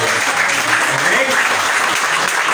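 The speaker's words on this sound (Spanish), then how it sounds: "Dale aplausos fuertes al Señor de Dios" A congregation applauds loudly in church, steady dense clapping filling the room, with voices audible beneath it.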